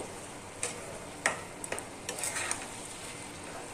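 Banana flower curry stirred in a pan after ghee is added: a quiet, low sizzle broken by a handful of sharp spoon taps and scrapes against the pan, with no talking.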